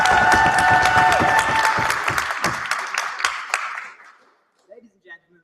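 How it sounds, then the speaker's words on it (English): Applause from the audience at a university debating society debate, brisk dense clapping with a few cheers that thins out and dies away after about four seconds, leaving near silence. "rapturous round of applause"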